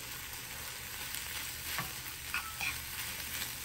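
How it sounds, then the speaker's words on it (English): A spoon mixes a spice mixture into protein in a hot pan, giving a low, even sizzle with a few soft scrapes and clicks over a short stretch, with no talking. "Grab a spoon and mix that up"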